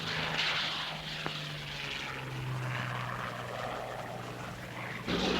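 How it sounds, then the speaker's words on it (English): A WWII propeller aircraft flies with a steady, droning engine hum that holds a low tone and shifts slightly in pitch. It sounds fairly close and continuous, with no talk. "aircraft which had been brought by ship from Britain and reassembled on the Rock were flown off to Tunisia"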